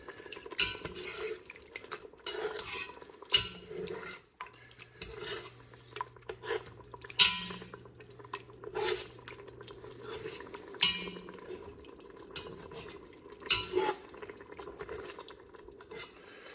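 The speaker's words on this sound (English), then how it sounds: "I go ahead and use a potato masher to go ahead and mash the whole tomatoes" A potato masher pressing and scraping whole tomatoes in a pot for baked ziti sauce: irregular metallic clanks and squelchy scrapes in uneven bursts, close and moderately loud, with no talking.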